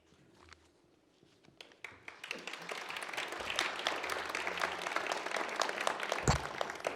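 At a 2018 university graduation ceremony, polite audience applause swells from scattered claps into a broad, steady round from a large crowd in a reverberant hall, continuing at moderate loudness to the end.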